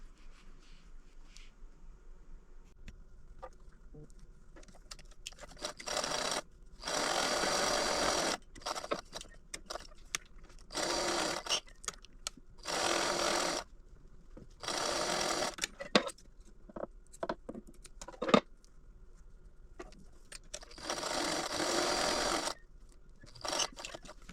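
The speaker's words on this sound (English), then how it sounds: "we're going to sew a 1/4 inch all the way around, no more than a 1/4 inch" Sewing machine stitching a quarter-inch seam around a fabric tablet wristlet, several bursts of rapid motor whirring separated by quiet pauses and small handling noises, with no talking.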